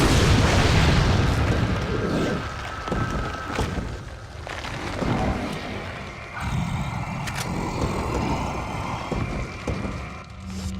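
A grenade blast in Resident Evil 4 gives a loud, rumbling boom right at the start, followed by lingering low roar and debris-like crackle with a few further thuds.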